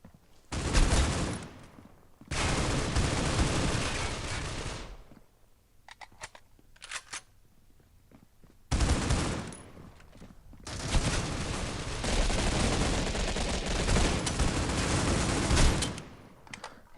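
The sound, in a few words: AK gunfire in the video game Critical Ops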